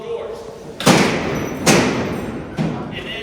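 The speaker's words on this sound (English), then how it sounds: "They would next click the clutch, which is what grabs a pin. The pin pops up to select all of those doors." Alcatraz cell door locking mechanism, three sharp metallic clunks as the clutch grabs and pins pop up, each ringing out briefly, spaced about a second apart over a quiet background.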